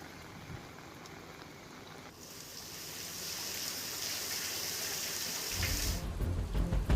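Steady rushing noise of heavy rain in the Girnar region of Junagadh that grows louder and denser, with a heavier low roar of water in the last couple of seconds.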